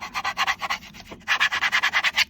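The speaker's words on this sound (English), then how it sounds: "So once again, I'm just rubbing down well" Firm back-and-forth rubbing strokes pressing an etching transfer film onto a glass soap bottle, a rapid rhythmic series of close scrubbing bursts with a brief pause midway.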